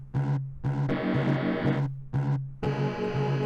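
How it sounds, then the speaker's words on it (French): A music track has a distortion effect applied, giving buzzy, harmonic-rich synth notes. They play in short, evenly spaced bursts with brief gaps between them, heard alone at moderate loudness. "Je rajoute évidemment une distorsion."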